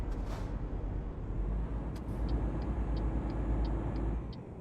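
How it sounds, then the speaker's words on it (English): A truck's turn indicator in Euro Truck Simulator 2 ticks at an even pace, faint regular clicks over a steady low engine hum inside the cab. "That is a much better indicator noise."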